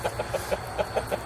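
Roosters and hens clucking in a backyard flock, a quick run of about eight short, evenly spaced clucks, close and clear over a faint background hum, with no talking.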